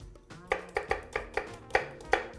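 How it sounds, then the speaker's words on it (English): A kitchen knife dicing shallot on a cutting board, about seven crisp taps in an uneven but steady rhythm, close and clear with no talk. "So I'm just gonna do a little bit of diced shallot in this."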